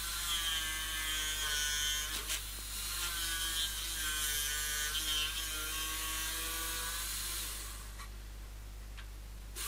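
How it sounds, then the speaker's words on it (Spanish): A power jigsaw buzzes steadily through wood, a loud continuous motorized whine with a rattling edge, running for several seconds before easing off near the end. "El interior lo haré con la caladora."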